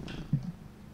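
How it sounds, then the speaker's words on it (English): Soft, close purring from a cat, a low rumbling vibration over one brief moment with a slight swell in the middle. "Can you hear that purr?"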